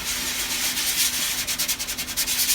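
Sandpaper scuffing over cured auto body filler on a repair panel, a close, steady dry rasp that turns into quick back-and-forth strokes toward the end, with no talking.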